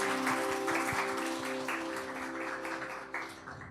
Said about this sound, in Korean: 우리 같이 한번 격려의 박수 바랍니다